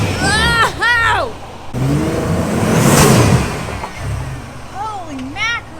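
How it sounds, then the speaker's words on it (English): A Jeep Wrangler's turbo engine revs and whirs through the middle on an off-road trail, with excited voices talking and exclaiming before and after. "the turbo sounds really cool"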